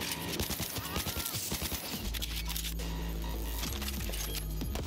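Enemy gunfire and grenades in Cyberpunk 2077: bursts of close, rapid shots crackle for a couple of seconds, then a deep, steady rumbling drone takes over with scattered sharp impacts on top.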